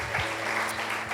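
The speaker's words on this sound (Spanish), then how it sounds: "Aplauda a Jesús." Church congregation clapping for Jesus during a Sunday service, a dense steady wash of applause lasting about a second with no clear pauses.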